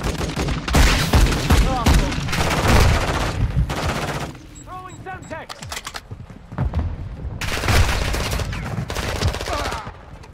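Loud automatic gunfire in Modern Warfare 2 rattles in repeated bursts, mixed with tactical radio callouts and a voice speaking, a quieter lull in the middle, then heavy shooting again.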